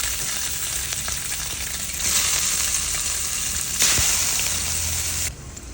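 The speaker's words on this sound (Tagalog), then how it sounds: "prito na muna natin ng konti" Slices of Spam fry in hot oil in an ordinary pan, a loud, close, continuous sizzle that swells briefly now and then before easing off near the end.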